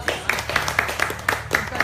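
A small group claps in a round of applause, sharp hand claps in a quick, fairly regular rhythm, close and moderately loud over a faint room background.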